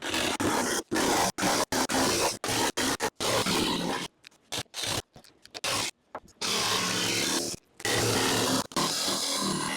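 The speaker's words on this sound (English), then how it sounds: "I'm first using the jigsaw to cut the holes out first." Jigsaw plunge cutting a wood panel for a Ford Transit van partition wall: loud, harsh buzzing saw bursts broken by short pauses and stops, close up, with no talking.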